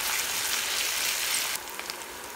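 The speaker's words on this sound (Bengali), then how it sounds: "নেড়ে পেঁয়াজগুলো ভেজে নিব।" Onions fry in a pan on medium heat for beef liver bhuna, a dense, even sizzle that steps down slightly partway through, with no talking.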